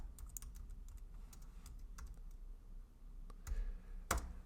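Terminal command being typed on a computer keyboard: a quick run of close, light key clicks in uneven rhythm, ending with a firmer keystroke, quiet with no speech.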